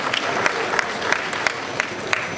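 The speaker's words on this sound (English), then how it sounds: "Please, a round of applause for them as they stand up on their feet." Audience applause for a panel of health-sector stakeholders at a formal discussion event, a steady mid-level wash of clapping with a few sharper individual claps rising above it, heard throughout.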